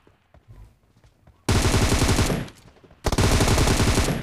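Automatic gunfire in a battle royale video game: two loud, sustained bursts of rapid shots, the first lasting about a second and a half, the second following after a short pause, preceded by quieter game ambience.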